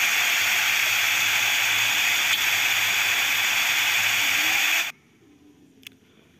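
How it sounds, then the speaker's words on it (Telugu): Rice flour chegodi rings deep fry in hot oil over a medium flame, giving a loud steady close hiss and sizzle that cuts off abruptly, leaving near quiet with one faint clink. "మీడియం ఫ్లేమ్లో గోల్డెన్ బ్రౌన్ కలర్ వచ్చే వరకు బాగా వేయించుకోవాలి"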